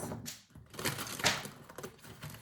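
Tarot cards being shuffled in a quiet room for a reading, a run of soft rapid riffling and flicking bursts close to the listener.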